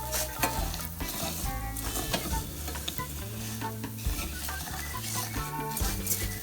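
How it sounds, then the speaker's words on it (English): Shrimp for fajitas fry in a little oil in a pan over medium heat, a continuous close sizzle and crackle with scraping stirs and clinks of utensils, heard alone while background music plays underneath. "all you're gonna do is just fry it like that. Fry it with a little bit of oil."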